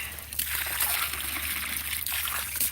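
Water is poured out for a pet rabbit outdoors in snowy weather, a steady bright splashing trickle for a couple of seconds.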